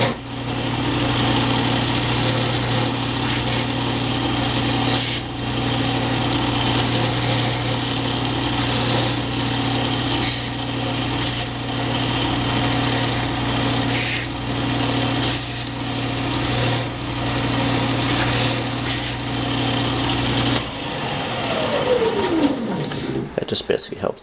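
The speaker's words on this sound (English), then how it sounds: "I use a standard belt sander, the fine, about a 300 grit belt" A standard belt sander with a fine 300 grit belt deburrs the edges of printed circuit board material, giving a loud continuous motor drone with rough grinding. It winds down and stops near the end.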